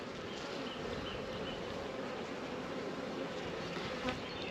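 Honeybees buzz in a dense, steady drone while a deep hive is opened for inspection after winter, the hive infested with hive beetles; close and continuous.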